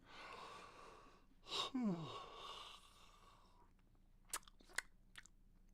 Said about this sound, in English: you heard me yawn